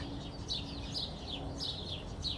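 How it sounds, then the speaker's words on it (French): Birds sing in a park: high repeated chirps and short warbling phrases, moderately distant, over a steady low background hum. "Les chants des oiseaux emplissent l'air."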